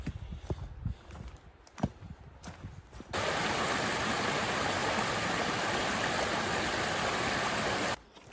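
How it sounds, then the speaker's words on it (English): Mount Tom Creek on the Hoh River Trail rushes as a loud, steady wash of water close by, rising abruptly after a few seconds of quieter footsteps on the trail and cutting off near the end. "Just passing Mount Tom Creek."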